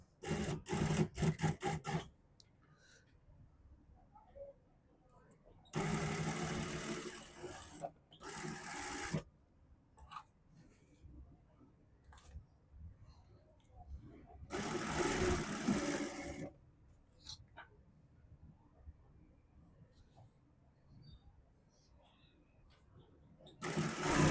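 A sewing machine stitches along the edge of a suit collar in several short bursts of rapid whirring, separated by quiet pauses with faint handling noise.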